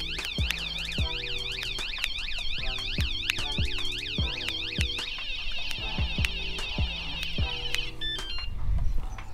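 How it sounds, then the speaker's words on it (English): A cheap bike alarm blares nonstop, cycling through rapid warbling and beeping patterns, loud and close, with a steady high tone near the end. "then the alarm is gonna go off."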